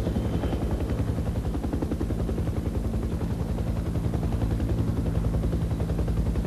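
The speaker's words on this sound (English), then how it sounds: "The helicopters drop down close to ground level to take advantage of terrain masking." Military helicopters flying low over terrain in Vietnam, a loud, steady rotor throb with dense rapid chopping that fills the whole stretch without pause, no voices.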